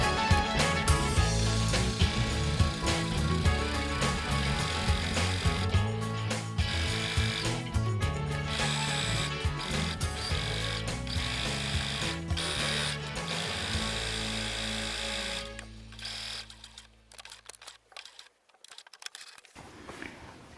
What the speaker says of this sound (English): So now for the second seam, I've moved the needle to the middle, and I'm still using the edge of my foot as a guide for where to sew.